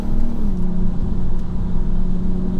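BMW M240i xDrive driving along a Goodwood road, a steady, loud engine drone with a low rumble and a faint shifting tone, heard from inside the car without talk.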